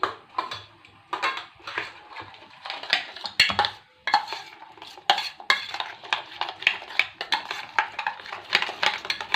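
Ingredients are stirred in a cooking pan, with a steady run of close scraping and clattering strokes against the metal that carries on without pause and without any speech.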